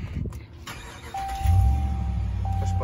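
A 2019 Ram Laramie Longhorn truck engine fires up by push-button start: a brief electronic chime, then the engine catches and settles into a steady low idle rumble, close and fairly loud.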